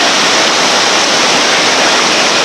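Loud, dense rushing roar of whitewater river current on a West Virginia rafting run, a continuous broadband wash with no breaks, close to the microphone.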